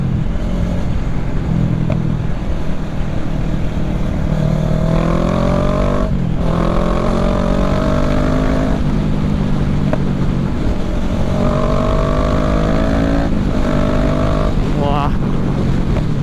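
A Kawasaki ER6N motorcycle with an Akrapovic exhaust idles loudly nearby, then revs up in several rising sweeps, each falling back to a steady throb. Wind buffets the microphone throughout.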